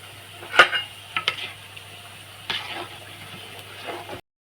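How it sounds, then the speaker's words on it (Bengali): Masala paste with panch phoron, bay leaf and salt fried and stirred in a pan, a low steady sizzle broken by a few sharp clanks of a spatula against the metal, with no talking. "ভালো করে আমি মশলাটা কষিয়ে নেব"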